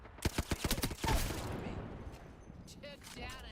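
Frag grenade tossed and bursting in the Apex Legends video game, a quick run of sharp close shots followed by a heavy boom that rolls into a long rumbling decay, with game chatter layered over it.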